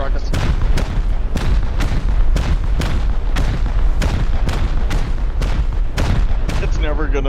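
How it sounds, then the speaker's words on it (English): Rapid, loud explosions from rockets in a zombie survival video game, with a heavy boom hitting about every half second across the whole stretch and a faint voice near the end. "Oh, more rockets."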